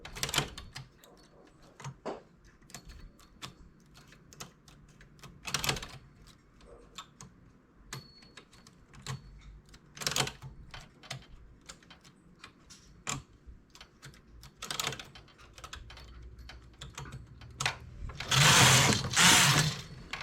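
Mechanical clicking and ratcheting from a knitting machine worked to form a zigzag stitch, with sharp carriage strokes recurring every few seconds over faint ticking, ending in a louder, longer sliding pass.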